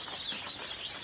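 Broiler chicks of the Paragon A-plus poultry breed peep in a dense, steady chorus of high chirps that runs without pause, close and fairly faint, with no talking.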